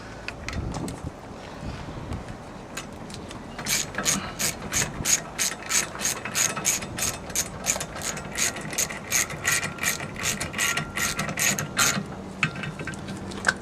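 A hand ratchet tightens a nut on an outboard engine's propeller, giving a steady run of sharp, close clicks in quick rhythmic bursts, with light wind noise behind it.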